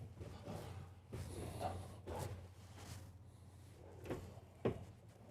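Soft-close drawers in a 2026 Newmar Super Star 4140 RV kitchen sliding shut, faint muffled thumps and soft rolling glides in a quiet interior.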